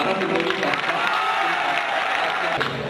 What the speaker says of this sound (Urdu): تالیوں سے استقبال کریں